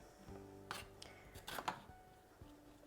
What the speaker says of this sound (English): I'm just going to chop up into kind of chunky bits.